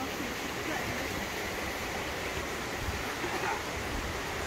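Dolgoch Falls waterfall in mid Wales, a dense steady roar of falling water, broad and unbroken throughout, with no clear talk over it.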